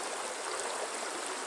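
A mountain stream in Davenport Canyon rushes and trickles steadily, a dense continuous wash of water close by with no pauses and no voices.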